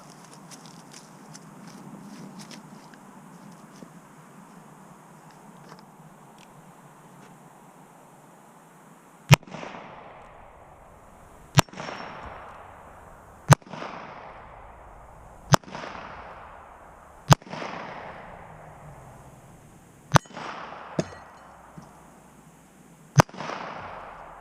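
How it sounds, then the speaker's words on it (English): A 12 gauge pump shotgun fires birdshot and buckshot outdoors, eight sharp, loud blasts spaced a couple of seconds apart, each ringing out with a short echo, after quieter handling noises. "It's a 12 gauge pump shotgun, home defense gun."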